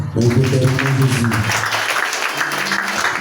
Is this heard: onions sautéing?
no